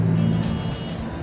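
A loud vehicle outside in the early morning gives a deep, steady engine rumble, close and continuous, easing slightly toward the end; no alarm is distinct.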